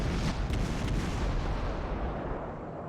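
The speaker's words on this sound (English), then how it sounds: "No reason to stop firing though." Naval guns fire from the US Navy cruiser Atlanta in the World of Warships video game. A dense, loud wall of booming blasts rolls on continuously and fades slightly near the end.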